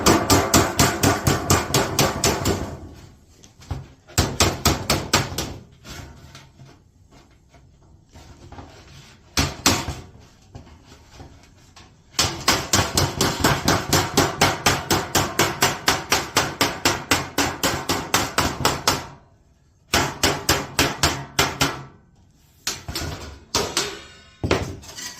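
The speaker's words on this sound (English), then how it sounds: "then take your regular hammer" A regular hammer beats over the edge of HVAC sheet metal, with a 1/2 inch tool set inside. Bursts of rapid, loud, sharp metallic blows come close up, separated by short pauses.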